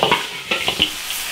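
Lamb is stir-fried in a big iron wok, making a brief close sizzle with a few quick scraping strokes of the spatula.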